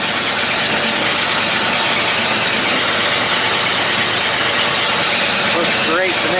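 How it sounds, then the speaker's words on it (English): Engine running loud and steady on an auger wagon mixing cattle feed, a continuous close rumble with someone talking over it. "The biggest thing with doing this with an auger wagon is let it mix."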